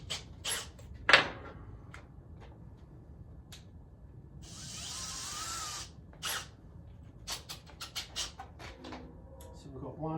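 Short bursts of a power drill while a steel-frame workbench with a timber top and vice is put together, several brief whirs and clicks, one longer run midway, with light handling noise between.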